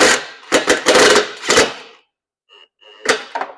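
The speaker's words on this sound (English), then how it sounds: "So now I'm just going to put my 2 bottom screws in." A power driver sets screws into a plastic gate opener control box for a Ranger 500 gate opener, giving a loud, close burst of choppy whirring pulses for two seconds, then brief faint whines and a final short buzz.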